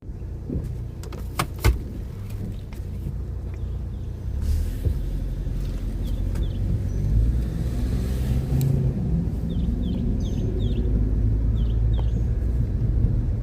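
A car drives along with a steady engine rumble and road noise throughout, a few knocks and rattles near the start and faint squeaks later on, with no talking.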